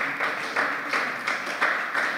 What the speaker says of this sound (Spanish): démosle aplausos a Él.